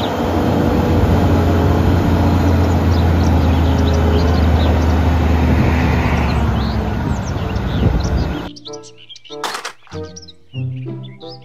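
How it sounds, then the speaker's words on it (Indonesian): Toy dump truck running with a loud, continuous engine-like whirr and high chirping toy sounds for about eight seconds, then stopping abruptly before a few brief electronic tones. "Mobil dump truck."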